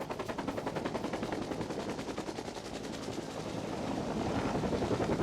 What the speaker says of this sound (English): That's the helicopter that we came in.